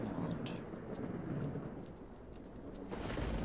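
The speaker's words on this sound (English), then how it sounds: "It's just thunder, I think." Rolling thunder rumbles through a rainy storm in the video game Stalker: Call of Pripyat, a deep sustained roll under steady rain patter that swells again near the end.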